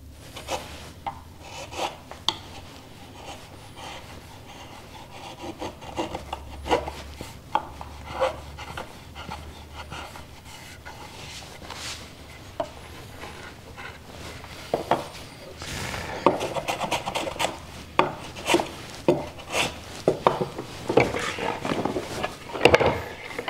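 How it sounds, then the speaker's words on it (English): Steel chisel paring hardened glue off a veneered wooden box lid, heard as close scraping and rasping strokes that grow busier and louder toward the end. "Aim your chisel to cut in, that way you don't end up breaking fiber off on the outside."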